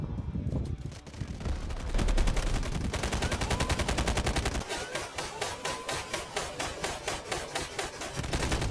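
A modified gun firing in the video game Delta Force: long sustained automatic bursts of rapid, evenly spaced shots, close and loud, continuing for several seconds with brief shifts in tone.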